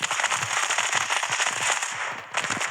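Gunfire in the mobile shooter Standoff 2, a rapid crackling string of shots firing continuously with a brief lull near the end, close and fairly loud, with no voices heard.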